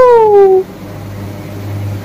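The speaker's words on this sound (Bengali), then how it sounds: "এই যে বিলাই বড় বিলাই এই বাচ্চা" A cat gives one clear, close meow that falls in pitch and fades within the first half second, followed by quiet room hum with no further calls.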